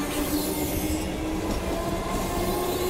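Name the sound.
electric suburban train departing the station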